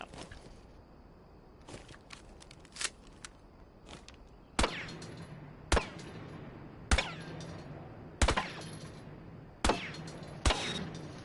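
Semi-automatic sidearm fire in Rainbow Six Siege, with single sharp shots spaced about a second apart, loud and close, over faint background game sound.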